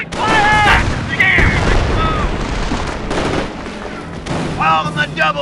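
Rapid bursts of gunfire and explosions from the Company of Heroes video game, Normandy invasion mission at Hill 192, with loud continuous battle noise and shouted voices over it.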